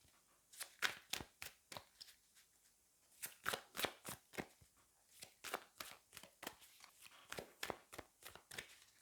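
Tarot cards being shuffled by hand, a quiet close series of crisp riffling slaps in regular rhythm, pausing briefly midway before resuming.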